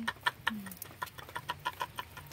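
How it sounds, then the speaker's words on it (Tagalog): A live turkey (pabo) on a rural provincial farm gobbles and clucks in a series of sharp, rapid calls, close and fairly loud, with faint background noise between bursts. "Turkey."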